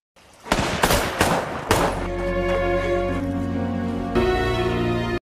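Several sharp gunshots crack out in quick succession during a film scene, followed by a long sustained low musical drone with layered tones that swells near the end.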